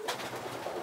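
Yearling pigeons coo softly inside a loft near the nest boxes, one brief low murmuring call heard close up with no one talking.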